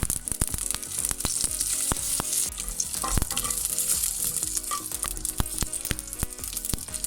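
Mustard seeds, asafoetida and fresh curry leaves crackle and sizzle loudly in hot oil, with sharp popping spatters over a continuous close frying hiss and no talk.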